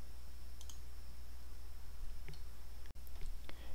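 Faint mouse clicks from editing in VSDC video software: a few short, sparse ticks spaced apart over a soft, steady background hum, with no talking.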